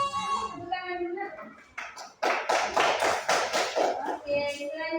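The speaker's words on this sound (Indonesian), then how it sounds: "Tepuk tangan dulu" A brief burst of quick, bright clapping from a small group of primary school children in a classroom, framed by a teacher's voice speaking before and after.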